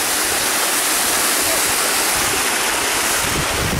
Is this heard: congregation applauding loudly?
no